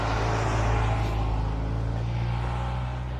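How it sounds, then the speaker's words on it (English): A mail truck rumbles past in the background, its low engine drone steady and moderately loud across the whole stretch with no voices. "how loud that mail truck is in the background of the audio"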